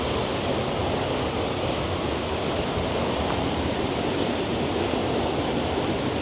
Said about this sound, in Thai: เป็นไงวันนี้บรรยากาศน้ำตก ฟินมาก สุดยอดจริงเนาะ